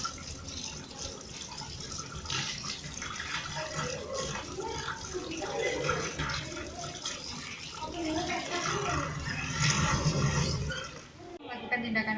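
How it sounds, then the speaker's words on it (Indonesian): Hands washed with soap under running tap water in a clinical setting, a steady splashing stream with rubbing, moderately close, briefly interrupted near the end, with a voice talking over it. "Selanjutnya mencuci tangan dengan sabun dan air mengalir."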